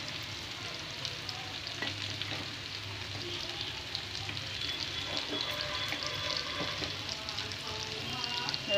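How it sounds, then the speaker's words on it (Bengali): Chopped jackfruit fries in oil in a pan with a steady, soft sizzle, broken by occasional stirring scrapes and light clinks, faint and close throughout. "এখানে এঁচড়টা ভাজা হয়ে গেছে"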